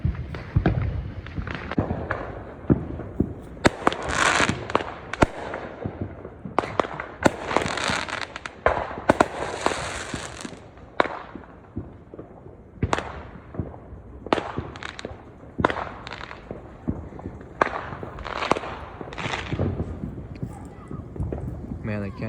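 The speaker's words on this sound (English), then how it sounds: "I have to find these fireworks" Repeated fireworks in a suburban neighborhood bang and crackle in irregular bursts, some near and sharp, others more distant, continuing throughout.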